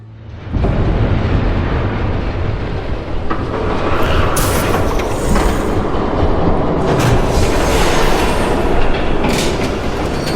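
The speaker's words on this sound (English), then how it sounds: "There's a train coming." A train rolls past at close range in the Batman Telltale video game, a loud, steady rumble with rhythmic clatter and occasional metallic squeals lasting throughout.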